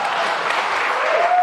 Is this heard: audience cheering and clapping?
yes